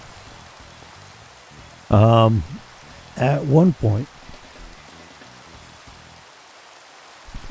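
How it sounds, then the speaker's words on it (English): Steady rain falling outdoors, a constant soft hiss running under a man's intermittent speech and continuing quietly on its own after he stops. "of course it's raining now"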